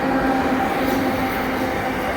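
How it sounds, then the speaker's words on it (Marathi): A train rolls through a station with a loud, steady rumble and faint wheel squeal, heard close with no voices. "इथे सगळ्या ट्रेन बघायचं झालेलं आहे आमचा"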